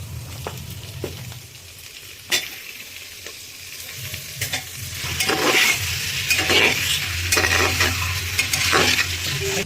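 Chicken pieces added to a hot pan for a chicken stew sizzle and fry close by, with stirring scrapes and clinks of a utensil against the pan, growing louder toward the end.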